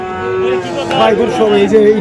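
Cattle lowing at a busy livestock market, loud close moos rising and falling over about two seconds with crowd murmur behind.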